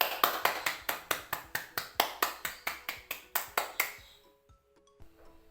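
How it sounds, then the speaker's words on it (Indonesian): A vocational high school multimedia class claps in unison, about fourteen sharp, evenly spaced claps ringing close and loud, then the rhythm breaks off and a brief room echo fades into near quiet. "Kita tepuk tangan dulu untuk kita semuanya."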